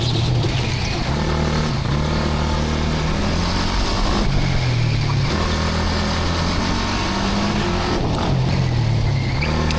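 A 15 hp, six-speed indoor shifter kart runs laps in a steady, loud engine drone. The pitch rises and falls through repeated gear changes and revs, close and continuous for the whole stretch.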